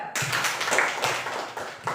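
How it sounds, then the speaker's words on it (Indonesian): Clapping for a group of students at a teacher-training class session, a short burst of scattered hand claps with several sharp taps, moderately close in a room. "Jadi tepuk tangan untuk kelompok kamuflase."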